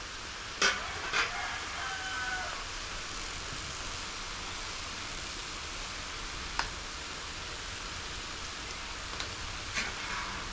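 Drumstick leaves with salt being stirred and sautéed in a pan give a steady soft sizzle throughout, broken by a few clear scraping clicks near the start and occasional light knocks later, with no talking.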